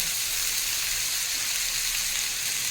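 Tomato with spices, potato, chilli and turmeric sautéing in a pan over high flame: a steady, loud, even sizzle like rain hisses continuously without pause.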